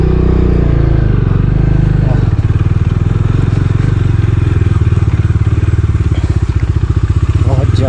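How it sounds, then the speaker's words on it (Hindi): Motorcycle riding on an off-road Himalayan mountain pass with snow, its engine thumping loud and close with a steady rapid pulse, heavy rumble and wind noise throughout. "अब यहाँ से चल दिए हम लोग और बाइक निकाल ली थी"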